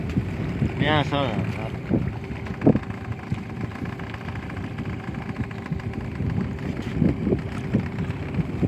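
A boat out at sea herding horses, its motor and water noise rumbling steadily under wind buffeting the microphone, with a brief rising tone and a few knocks, and voices faintly in the background.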